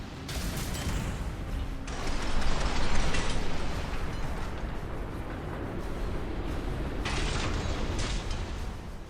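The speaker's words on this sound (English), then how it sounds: "Another vertical missile launcher, this one fires 8 rockets into the air before returning back down." Vertical missile launcher in Armored Core 6 firing eight rockets upward before they come back down, heard as a dense, loud mechanical roar with booming bursts and sharp bright whooshes near the start and again late on, with no voices.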